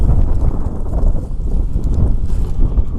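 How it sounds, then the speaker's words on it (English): Strong wind buffets the microphone outdoors during metal detecting in dirt, a loud, continuous low rumble with gusty swells across the whole stretch and no speech. "Of course, here comes the wind."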